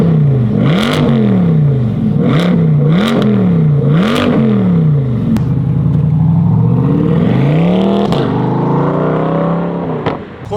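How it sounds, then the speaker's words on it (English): A 2024 Corvette C8 with a Borla ATAK cat-back exhaust revs repeatedly up close, with four sharp rising-and-falling blips followed by a longer sustained rev and a final burst. "We got 2024 Corvette C8, as usual, slapping a Borla attack cap back on there."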